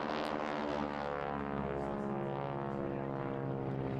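Propeller aircraft crossing at an air display, a loud steady droning engine buzz with a rich harmonic hum that holds close and strong throughout, without talk.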